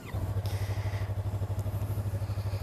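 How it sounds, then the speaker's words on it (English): A motorcycle engine idles up close with a steady, even, rapid thumping pulse that keeps the same pace and loudness throughout, with a faint clatter on top. "look at the sound of that engine"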